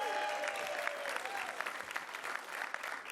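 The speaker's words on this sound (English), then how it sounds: "Let's give her a round of applause" An audience applauds at a Bronx affordable housing announcement, a steady patter of many clapping hands at moderate distance that continues for a few seconds.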